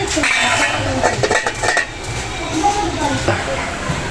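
Metal pot clatters under handling as a cooking lid is set back on, with repeated clinks and scrapes of cookware, fairly close and loud.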